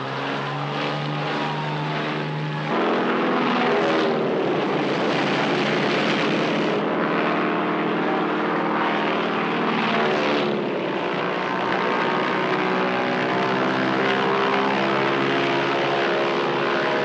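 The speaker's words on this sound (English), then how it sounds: "The first of 400 Japanese bombers and torpedo planes take to the air." Roaring propeller engines of Japanese bombers and torpedo planes taking off for the December 1941 Pearl Harbor attack, a loud, continuous droning rumble that swells as the aircraft pass, with no voices.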